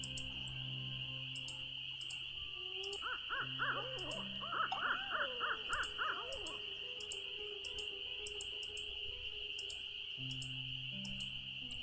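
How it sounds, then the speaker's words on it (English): Dog howling in the Nancy Drew: Ghost Dogs of Moon Lake game, a few seconds of layered mournful howls at mid distance over a steady bed of crickets and insect chirps, no talk. "Hearing howling"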